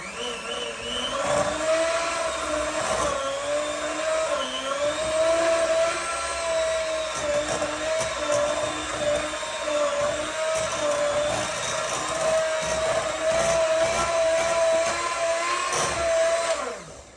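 A steady, loud electric mixer hum drones on for the full stretch, beating cream cheese with egg for a chocolate cheesecake, its pitch wavering slightly as the beaters work.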